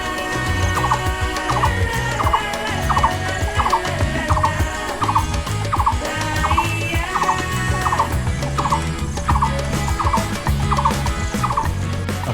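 Outside a resort cottage veranda in Sreemangal, birds repeat a sharp call in a steady, regular rhythm, loud and close, running continuously without any voices over a rumbling background.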